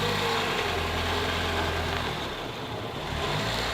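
A 2007 Ford Focus 1.6 Ti engine running steadily, close by, with a noisy, rattly idle that holds a constant rough drone throughout.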